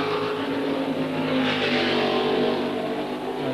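Racing cars at the 1972 Tasman Series race in Adelaide give a continuous engine roar that swells loudly midway as a car sweeps past, then eases back to a steady drone.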